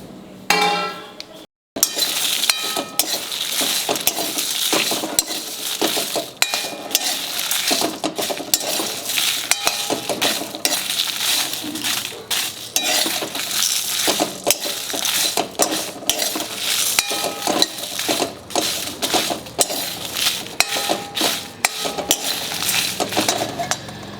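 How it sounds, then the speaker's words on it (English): Dry masala spices roasting in a hot vessel, stirred continuously with a metal utensil that scrapes and clinks against the pan in a busy, steady rhythm, close and fairly loud, with a brief silence at the start. "Once the vessel gets hot, put in all these dry condiments"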